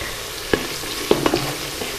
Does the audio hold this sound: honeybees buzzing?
no